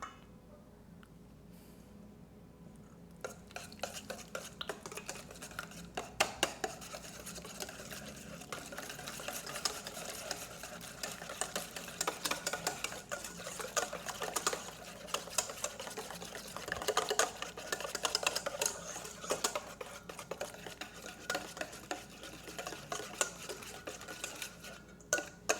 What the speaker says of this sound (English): Whisk together the pumpkin.